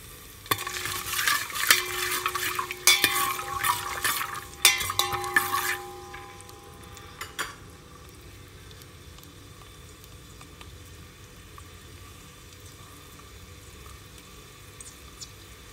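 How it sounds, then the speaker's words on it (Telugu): Coconut pieces frying in a pan give a sizzling crackle with frequent scraping stirs and metallic clinks for about six seconds. A faint low hiss follows. "ఇది కలర్ మారే వరకు మంచి వాసన వచ్చే వరకు ఈ కొబ్బరి ముక్కల్ని వేయించుకోవాలి"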